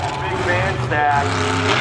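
A monster truck engine roars at a speedway, a loud sustained growl that swells in pitch partway through, with crowd noise and an announcer's voice over it.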